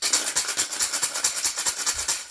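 Rapid rhythmic rattling of pennies and other coins shaken inside a travel mug, a steady metallic chink-chink pulsing about eight times a second, close and alone.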